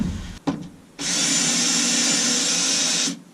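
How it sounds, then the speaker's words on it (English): A short tap, then a loud power drill whines steadily for about two seconds before stopping abruptly, close by, while removing interior trim from a car. "See what this drill will do with it."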